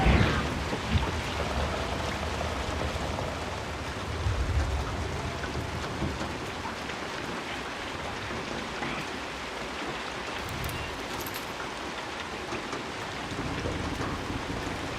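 Heavy rain pours steadily in the video game Hunt: Showdown during a storm, a dense continuous hiss with low thunder rumbling underneath throughout, and no voices.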